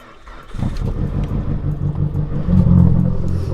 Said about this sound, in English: let's start up the car for the first time in like 3 weeks